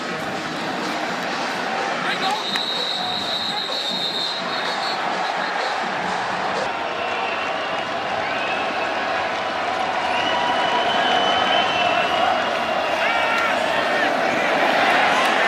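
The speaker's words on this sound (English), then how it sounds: "Whistle and listen to the Autzen crowd." A football crowd at Autzen Stadium cheering and roaring, a dense broad wash of noise that swells louder toward the end, with a commentator talking over it.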